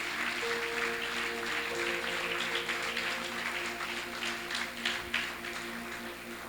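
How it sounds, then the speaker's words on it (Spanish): A church congregation claps steadily, a soft, diffuse patter heard from a distance under sustained instrumental tones. "Denle un fuerte aplauso a Dios"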